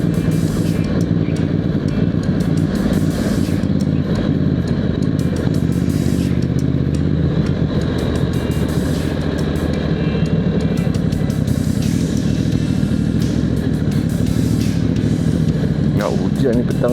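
A Moto Morini X-Cape 1200 motorcycle engine clatters and rumbles steadily while riding through traffic, with road and wind noise around it and a rider talking over the engine.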